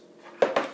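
A spoon mixes crushed cookies and chocolate cream in a dish for a black forest style dessert, with two quick close clinks of metal against the dish after a faint quiet moment.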